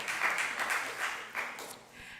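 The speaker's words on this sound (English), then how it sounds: "You can clap." A congregation at a Friday evening Shabbat service applauds after a song, a soft, fairly distant wash of many hands clapping that swells in a few waves and then thins out.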